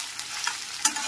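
Boiled soya chunks fry gently over a medium flame while being stirred in a pan, giving a soft, steady sizzle with light scraping and a sharper clatter near the end, close by and with no talk.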